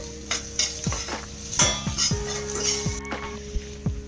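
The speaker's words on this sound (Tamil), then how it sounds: "கொஞ்சமாக சால்ட் போட்டுட்டு ஃப்ரை பண்ணிக்கோங்க" Beans and vegetables frying with a little salt in a pan; metal spatula knocks and scrapes in an uneven rhythm over a light sizzle, close and loud, with no talking.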